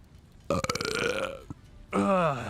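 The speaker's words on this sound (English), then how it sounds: "There's a burp from me." Two loud, close burps from a person come one after another, a long rumbling one and then a shorter one following a brief pause.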